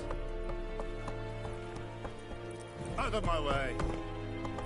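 Roach the horse galloping in The Witcher 3, rhythmic hoofbeats under game music, with a voice speaking over them.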